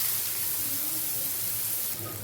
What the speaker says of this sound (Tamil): நம்ம பேஸ்ட்டுங்கள கொஞ்சம் வச்சு வதக்குவோம்